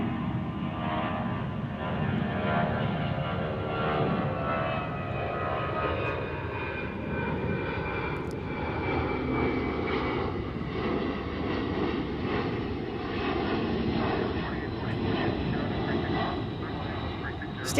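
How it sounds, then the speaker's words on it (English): A UPS Boeing 757 jet climbs out on departure from a busy airport, its engines giving a steady, continuous roar with a broad rumble held throughout, loud and fairly near, and faint talk now and then underneath. "UPS 757 going sky high here"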